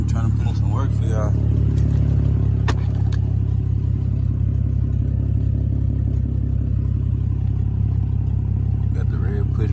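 A BMW E90 with an N52 inline-six and aftermarket headers idles with a steady, deep rumble close by, while a person talks briefly over it.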